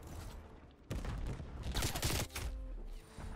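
Rapid automatic gunfire in Call of Duty Black Ops Cold War on the Diesel map in a 6v6 match: a dense, loud burst of close shots that swells and breaks off, then resumes briefly.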